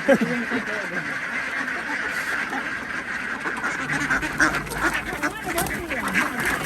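Young laying ducks quack repeatedly close by, a busy flock calling over one another while someone talks through the noise.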